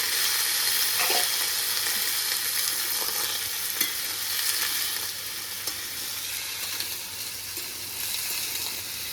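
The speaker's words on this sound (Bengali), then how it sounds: "এবার আমি কুমড়োগুলো দিয়ে দেবো দিচ্ছি" Pumpkin pieces fry in a pan with a steady, hissing sizzle throughout, with a few faint stirring knocks and no talking.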